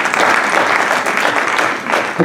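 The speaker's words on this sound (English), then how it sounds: "that deserves a hand clap" A symposium audience gives loud, dense applause from many hands, a continuous close roar of clapping that swells slightly near the end.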